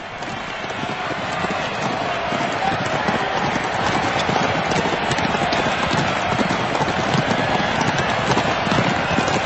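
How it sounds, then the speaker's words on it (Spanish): Horses gallop in the Palio race on the Piazza del Campo in Siena, a dense, continuous rumble of hooves under loud crowd noise. "Siena, la ciudad del Palio, una carrera de caballos que se celebra en la Piaggia del Campo"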